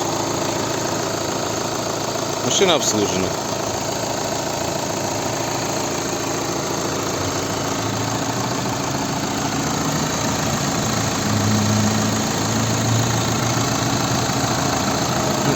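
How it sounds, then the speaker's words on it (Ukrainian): A 2.0-litre 140 hp TDI diesel engine of a 2012 VW Golf 6 with automatic gearbox idles steadily with a low, rough rumble and faint knocking, continuous throughout; a brief metallic clank near the start and a few spoken words. "Ось наш двигун, 2 літра, 140 кінських сил"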